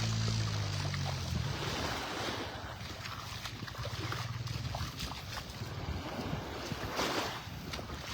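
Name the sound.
ocean waves at Vanderbilt Beach, Naples, Florida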